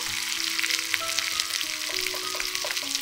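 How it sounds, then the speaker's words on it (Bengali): Spice masala sautéing in a pan crackles and sizzles loudly and steadily up close, with faint tonal squeaks and light stirring scrapes running underneath. "এবার মশলা ভালো করে কষিয়ে নেব।"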